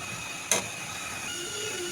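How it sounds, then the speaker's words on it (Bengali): Water boils in a pot for chow mein noodles, giving a steady soft hiss of steam with one brief sharp burst near the start; moderately quiet and close, with no voices. "আমার পানিটায় বলক চলে আসছে"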